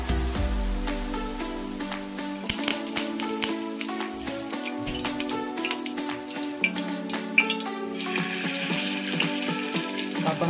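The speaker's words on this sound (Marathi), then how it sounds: "फिश फ्राय मस्त चाललेला आहे" Fish fries in a pan with curry leaves, giving a steady bright sizzle and crackle with occasional sharp pops, while a musical tone plays underneath throughout.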